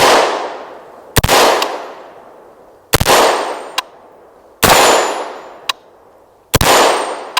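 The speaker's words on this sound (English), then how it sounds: "shooting at that spinner there, I don't even know if it's going to be possible to spin that" Four sharp shots from a CMMG MK57 5.7 PDW strike a steel spinner target, each a loud crack with a metallic ring that decays over about a second, followed by a fainter clang as the plate swings, spaced roughly 1.7 seconds apart.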